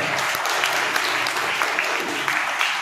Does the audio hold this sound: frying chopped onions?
no